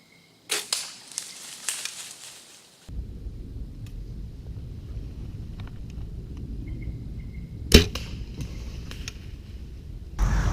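A hunting bow fires an arrow from a tree stand with one sharp, loud release crack. Rustling and thuds come before it, and a steady outdoor rumble continues underneath.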